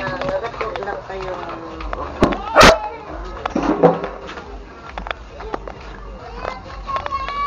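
A dog barks a few times amid people chatting nearby, the sharp barks standing out over ongoing conversation.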